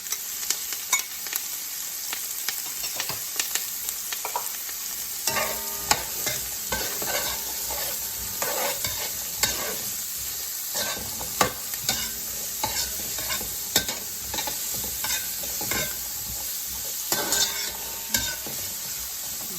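Celery, carrots and thyme sizzling in a pot while a spoon stirs them for curry chicken, a constant bright frying hiss dotted with scrapes and clinks of the utensil, close and without talk.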